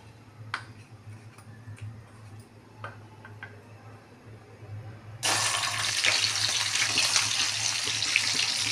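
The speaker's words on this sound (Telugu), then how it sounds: "ఇవి ఈ నూనెలో ఎర్రగా ఫ్రై చేసుకోవాలి" Fish pieces coated in salt, lemon, turmeric and chili powder frying in peanut oil, a steady loud bubbling sizzle that starts abruptly partway through after quieter ticking and faint kitchen sounds.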